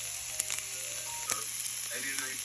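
Corned beef hash with carrots, potatoes and onion fries in a pan, a soft, continuous sizzle with a few faint clicks and pops, quiet and close.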